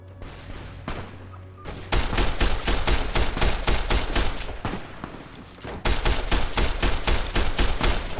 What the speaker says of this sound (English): They're shooting it.